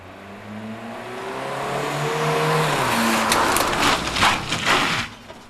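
A driving-school car in Zoetermeer pulls away and accelerates, its engine note climbing steadily in pitch and loudness from up close, ending in a rougher, louder rush of road and engine noise without speech.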